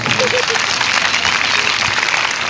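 An audience applauds at a school Republic Day celebration, a dense, steady wash of clapping that fills the whole stretch, with a voice faintly heard underneath.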